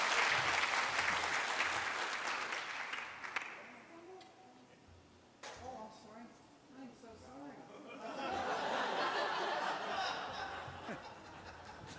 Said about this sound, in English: I was so inspired and they were clapping.